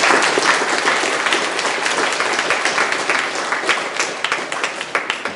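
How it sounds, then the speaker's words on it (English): Sustained audience applause from a full crowd, dense steady clapping throughout that tapers slightly toward the end with a few louder individual claps standing out. "Please give them a massive round of applause."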